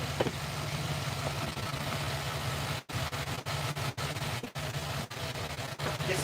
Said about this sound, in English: So I'm going to inflate both front tires.